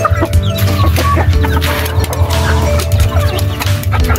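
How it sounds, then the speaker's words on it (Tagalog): Hens and a rooster clucking steadily and close, with dense, overlapping calls that keep going without a break over a constant low background hum. "Iyon, mga inahin yan,"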